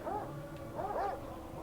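A dog in the video game Darkest of Days gives a few short, high whimpering yips that rise and fall, moderately loud over a steady hum of in-game background noise.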